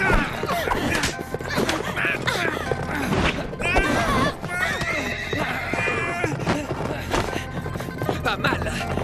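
Horse neighing and whinnying over fast galloping hooves in a French-dubbed animated Mulan film, loud and continuous with a dense, busy score and effects throughout.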